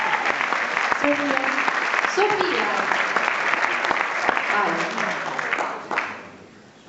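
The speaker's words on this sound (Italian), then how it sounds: "vogliamo fare anche un applauso alla nostra hostess" Audience at an Italian award ceremony applauding the hostess, sustained clapping with a voice speaking over it, then fading out near the end.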